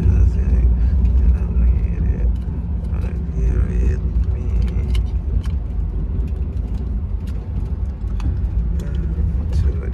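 Traffic at a highway rest area with trucks and private cars, a continuous low rumble of engines and passing vehicles with mechanical creaks, people talking over it.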